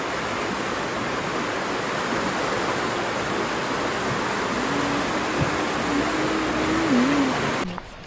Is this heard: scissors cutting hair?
no